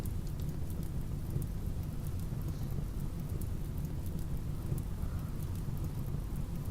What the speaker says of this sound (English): Maybe it'll start raining. It is raining.